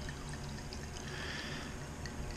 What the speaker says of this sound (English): We'll pour the white one here first.